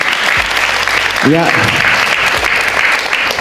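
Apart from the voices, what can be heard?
audience applause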